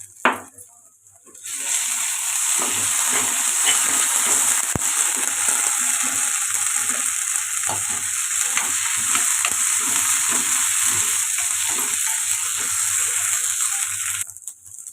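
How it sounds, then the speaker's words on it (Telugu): Onions frying with ginger garlic paste for Dhaba-style matar paneer masala, giving a steady, loud sizzle with a continuous crackling hiss and faint stirring throughout. "ఉల్లిపాయలు ఇలా ఫ్రై అవుతుంది కదండి ఇప్పుడు ఇందులోకి అల్లం వెల్లుల్లి పేస్ట్ అయితే వేసేసుకున్నాను"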